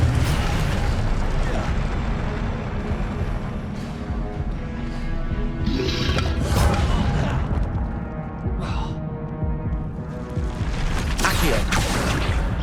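Fiery spell bursts cast in Hogwarts Legacy, a dense run of roaring, whooshing blasts and pops that keeps going loud and close across the whole stretch, with a voice talking faintly beneath.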